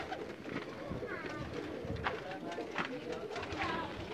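A breeder pigeon coos faintly among other birds outdoors, soft repeated calls under steady background noise and nearby talk.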